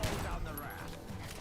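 An automatic rifle fires in a video game as a fairly faint, short burst of rapid shots mixed with other game sounds and voices.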